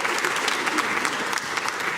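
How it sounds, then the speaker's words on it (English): Audience applause at a choral tribute concert, a dense patter of many hands clapping close by, steady across the whole stretch. "Let's give a round of applause for our accompanist, Michael."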